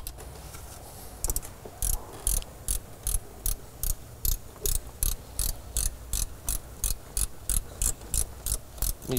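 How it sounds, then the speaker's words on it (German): A 13 mm ratchet wrench tightens an alternator bolt on a Skoda Octavia. Crisp ratcheting clicks repeat in short, evenly spaced strokes, close and fairly loud, over a low background rumble, with no talking. "Dazu nehmen wir wieder unseren 13er Ratschenschlüssel."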